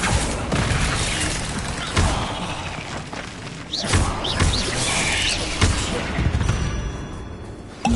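Bombarda blasting spell detonating during combat in the video game Hogwarts Legacy, a series of loud booming thuds and crashing impacts over a constant battle clamour, with the heaviest blasts landing near the two-, four- and six-second marks.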